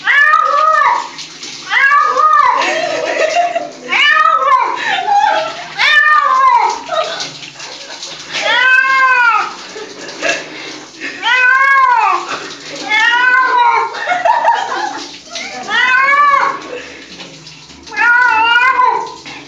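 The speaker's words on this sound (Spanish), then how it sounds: "tenemos el gato que habla me ahogo" A cat being given a bath yowls in a long series of loud, drawn-out rising-and-falling meows, close up, with short pauses between calls and water faintly behind.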